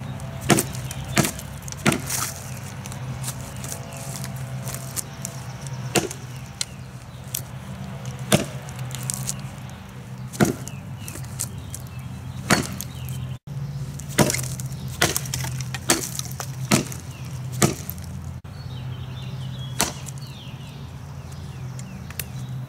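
Windlass Steelcrafts Half Moon tomahawk struck into wood in a durability test, with sharp repeated chopping impacts at irregular intervals, some heavier two-handed blows, close and loud over a low background hum.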